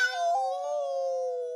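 A single drawn-out cat meow, close and clear, with a bright tone that bends slightly in pitch and holds steady for over a second before ending.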